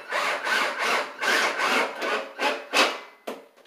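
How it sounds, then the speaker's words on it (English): A screw is driven into a wooden wall stud while installing closet shelving. It makes a series of about eight rhythmic, gritty grinding bursts, close and fairly loud, with no talking. "We just want to sink a screw in."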